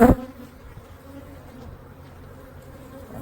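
Honeybees hum steadily around an opened single brood chamber hive, a close, continuous buzz after a brief bump at the start.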